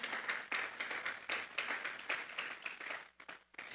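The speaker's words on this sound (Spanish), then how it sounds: "Vamos a darle una ofrenda de palmas a Dios en esta tarde" A church congregation claps together as an offering of praise to God, a dense rhythmic patter of many hands filling the room, steady then tapering off near the end.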